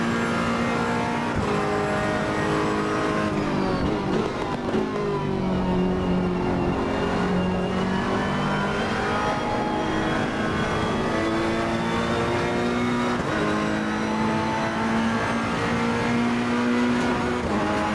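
Ferrari 488 GT3 race car engine in Assetto Corsa Competizione at Monza, a steady loud onboard drone with rising and falling revs through gear changes, no voices.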